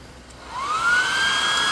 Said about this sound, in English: we can use the blow dryer to move to the next phase quickly